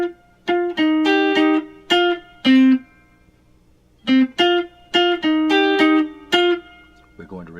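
Electric guitar picking out a saxophone melody, sustained single notes in two phrases separated by a short pause, close and fairly loud.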